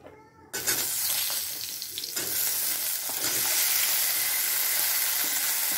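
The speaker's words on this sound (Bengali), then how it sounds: "এবার এর মধ্যে আমি আমগুলো দিয়ে দেব" Diced mango hits hot oil with a five-spice tempering, bursting into a loud sizzle after a quiet moment, then steady frying with scraping stirs that continue throughout.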